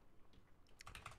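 A computer keyboard is typed on during a lunchtime live stream, giving a short, quick burst of faint clicks near the end of a quiet stretch.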